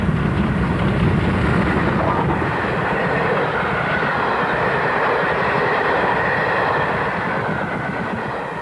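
GWR Hall-class steam locomotive Burton Agnes Hall hauls the Cathedrals Express on its home route from Didcot, a loud, close, continuous roar of engine and rolling train that fades slightly at the end.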